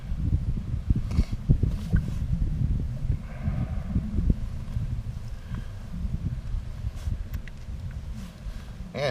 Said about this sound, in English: Man, this wind keeps changing directions on me.